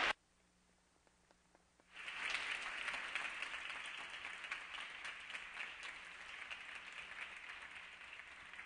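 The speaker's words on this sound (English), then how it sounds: "Please give them a round of applause." Audience applause at a Chicano Latino Youth Leadership Project gathering, breaking out after a quiet pause and holding as a dense, steady clatter of many hands through the rest of the clip.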